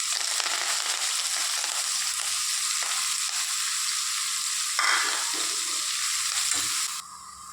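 Onions and curry leaves frying in oil in a pan, a loud continuous sizzle with a few stirring scrapes, close up and steady, the sizzle dropping slightly at the very end.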